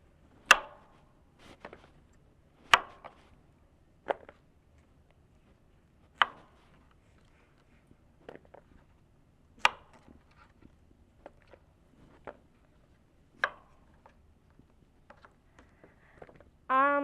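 A kitchen knife trims leftover skin off strawberries on a cutting board, producing sparse, sharp, quiet taps and clicks spaced irregularly a second or two apart against near silence.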